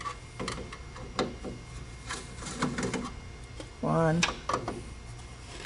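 Screws come out of a Ricoh Ri1000 printer board with a series of sharp metallic clicks and ticks and a short whirring buzz from a driver, while a voice speaks nearby.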